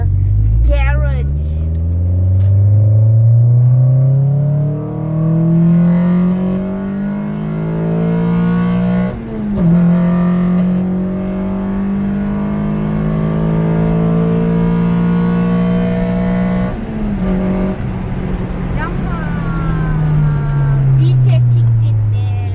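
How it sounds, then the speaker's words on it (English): A Honda engine with VTEC revs hard and loud from inside the car, pitch rising and holding through long pulls with a brief shift dip, then falling away, with occasional voices under the engine. "Vtec kicked in there so many times. It went louder."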